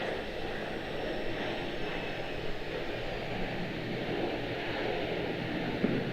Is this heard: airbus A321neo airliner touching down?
yes